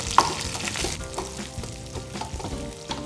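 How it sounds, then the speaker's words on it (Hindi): Chopped onion and green chillies frying in a pan for vegetable jalfrezi, a steady close sizzle with occasional louder pops and stirring clatter, no voices. "हम इसे 2 से 3 मिनट पकने देंगे ताकि हमारा प्याज पक जाए"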